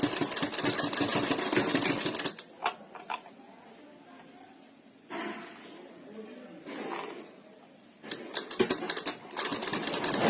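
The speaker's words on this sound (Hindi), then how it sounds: "यहाँ से सिलाई लगाना शुरू करेंगे।" A sewing machine stitches a sleeve in fast bursts, loud rattling runs at the start and end with a quieter stretch of softer handling noises between.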